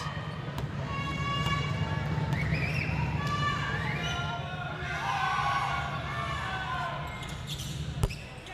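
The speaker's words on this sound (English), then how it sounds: "See the crowd" Crowd noise in an arena during a women's EuroBasket basketball game: a steady roar of cheering fans with drums, whistles and a commentator talking over it.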